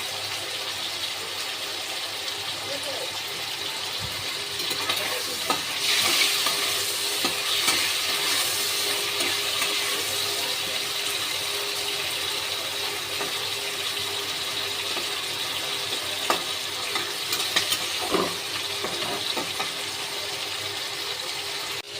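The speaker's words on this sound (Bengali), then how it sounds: "চিংড়ি মাছগুলো আমার ভাজা হয়ে গেছে" Prawns frying in a pan: a steady, even sizzle of hot oil runs throughout, with occasional scrapes and clicks of stirring, close and moderately loud, no talk.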